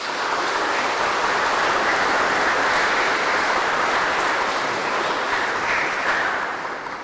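A church congregation at Mass applauds for a girl's fifteenth-birthday blessing, a dense, even wash of clapping that holds steady for several seconds and then tapers slightly at the end.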